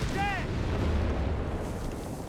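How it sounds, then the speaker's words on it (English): Stuka rocket barrage in Company of Heroes 3, a brief whistling launch followed by dense rumbling impacts and low booms that roll on for a couple of seconds. "Another Stukas barrage. This time, firing into the base, hoping to get lucky"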